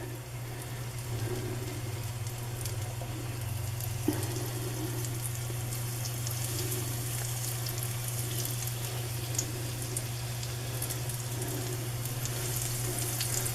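Chicken drumsticks fry in hot oil with a steady, continuous sizzle and crackle, close and even throughout, with a low hum beneath and no talking.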